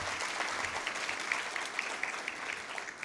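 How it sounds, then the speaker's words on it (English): An audience at a student leadership summit applauds with steady, dense clapping that stays even throughout, heard from within the room with no speech over it. "Give Corey a round of applause because she helped pull this together."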